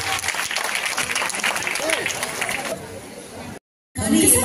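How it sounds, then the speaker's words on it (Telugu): Audience clapping for a child's performance at an Ugadi awards event fills the room in a dense, sustained burst, then cuts off abruptly before another loud surge of sound. "చిన్నారికి చప్పట్లు కొట్టి అభినందిద్దామా?"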